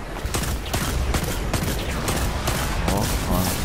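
A Destiny 2 masterwork weapon test-fired in rapid repeated shots, loud and close, with a spoken voice briefly underneath.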